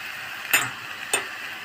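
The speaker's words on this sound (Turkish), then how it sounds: "Bu su bitene kadar kavuracağız." Içli köfte filling sizzles as it is sautéed in a pan until its water cooks off, a steady soft hiss broken by two sharp scraping stirs.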